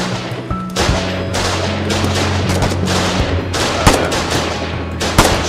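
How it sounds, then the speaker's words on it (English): Foxhole gunfire on a battlefield: loud, rapid shots crack out in a string of bursts over a constant rumbling backdrop, with a few sharper reports standing out. "It's a burst of fire."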